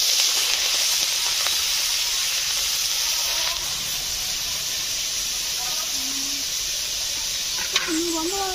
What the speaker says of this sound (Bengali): কড়াটা খুব গরম হয়ে গিয়েছে, চিংড়িগুলো দিয়ে দিচ্ছি